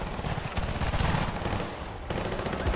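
Rapid automatic gunfire from the Battlefield Bad Company 2 video game, a dense continuous burst of shots with a short lull before firing resumes, loud and close.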